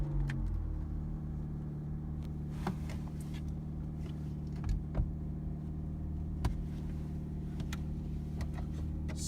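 Interior of a 2006 Honda Civic Coupe with 64,000 miles on a test drive: a steady low engine and road hum, with a few light clicks and taps over the drone.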